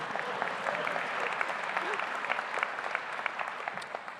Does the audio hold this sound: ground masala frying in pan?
no